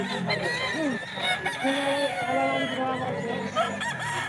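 A full-grown stag rooster crows at a busy Bocaue gamefowl market, its drawn-out call rising over constant crowd murmur and other birds, with people talking nearby throughout.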